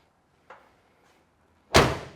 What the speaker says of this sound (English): Doors shut real nice, real tight, big old thump.